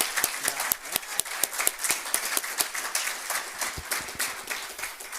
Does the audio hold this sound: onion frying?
no